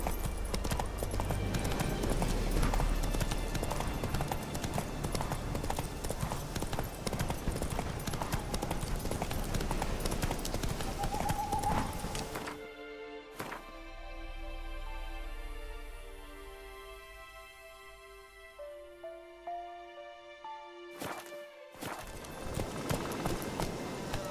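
Horse hooves clatter at a gallop in The Witcher 3 video game, a dense rhythmic clip-clop under game ambience and music for about half the clip, broken by a quieter musical stretch before the galloping resumes.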